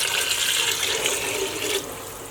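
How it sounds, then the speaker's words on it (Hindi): Half a litre of water poured into a pot of beef dal with mash lentils and spinach, a steady rushing splash for nearly two seconds before softening into a quieter trickle. "हाफ लीटर पानी ऐड करेंगे।"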